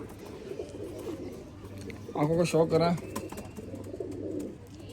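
Pigeons coo in a low, throaty burst of several rippling notes near the middle, set against steady background noise, with someone speaking briefly nearby.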